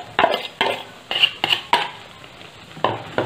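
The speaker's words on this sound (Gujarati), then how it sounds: "આપણું ઘી પણ ઓગળી ગયું છે. તેની અંદર આપણે લોટ ઉમેરી દઈશું" Flour going into melted ghee in a pan for sukhdi and being stirred, a series of short scraping stir strokes with light utensil clinks, close and clear, no talking.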